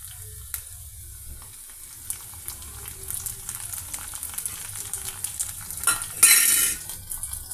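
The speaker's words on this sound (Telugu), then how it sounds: "ఈ విధంగా అల్లం చిన్నులపాయల పేస్ట్తో వెల్లుల్లిపాయ పీసెస్, పచ్చిమిర్చి ఫ్రై అవుతున్నాయండి" Garlic pieces and green chillies fry in ginger and small-onion paste, with a continuous close sizzle, scattered spoon and pan clinks, and a louder burst of spattering near the end.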